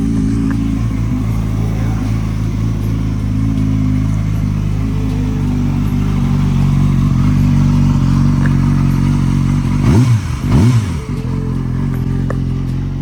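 A Yamaha R6 superbike engine runs loud and close with a steady low idle drone, then blips through two quick revs near the end before settling back.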